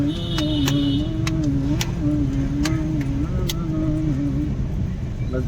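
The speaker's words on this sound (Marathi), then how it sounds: "लेफ्टचं इंडिकेटर" A car's left turn indicator ticking in a steady rhythm, clearly audible inside the cabin over a constant engine hum.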